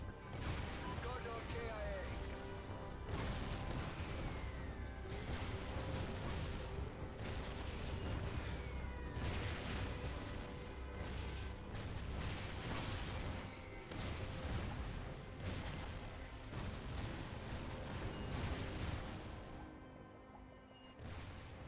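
Mortar strike killstreak explosions in Call of Duty Ghosts, a series of heavy booms and blasts at irregular intervals across a noisy battlefield, with someone talking over them throughout.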